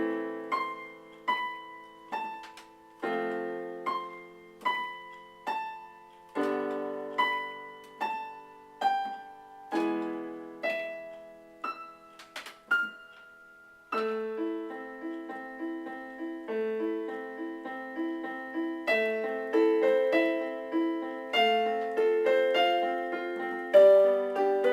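Solo piano plays a piece from the New Moon film score, gentle arpeggiated notes rising and decaying in a steady flowing rhythm, close and clear with no voices.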